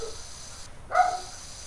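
Household dogs barking at a distance, a short burst of one or two yaps rising briefly over a hissy room background.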